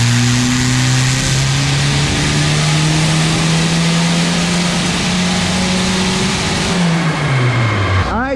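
Turbocharged Honda Accord engine revving hard on a dyno in third gear, a loud, steady rising engine drone that climbs for several seconds, then drops off sharply as the pull ends.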